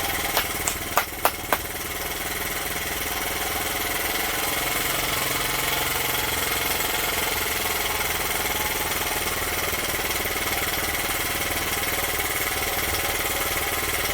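Honda Z50 minibike engine fitted with a CDI conversion kit runs steadily with the choke fully off, a loud continuous buzzing idle after a few sharp clicks at the start.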